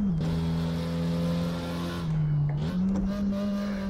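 A Porsche 356 Coupé engine revs hard and steady at close range, dipping briefly as a gear change is fumbled, then climbing again; no voices over it.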